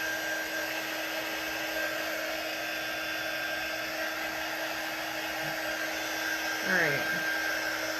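A hair dryer runs steadily to dry a baker's craft cutout project, with a continuous close whir through the whole stretch. A brief spoken word comes near the end.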